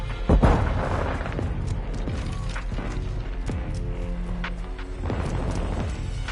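A flashbang grenade goes off in Call of Duty: Modern Warfare II with one loud, close bang, followed by a steady roar and faint mechanical clicks.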